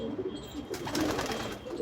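Female Madras and Andhra pigeons coo in a loft, a low murmuring coo partly masked by broadband rustling and hiss, moderately loud and close.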